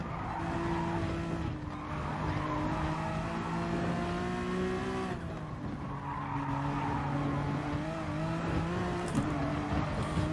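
Honda NSX Gr.3 race car lapping the Nürburgring in Gran Turismo Sport, its engine holding a steady high whine that rises and dips with gear changes, tires faintly scrubbing, heard fairly quietly and alone.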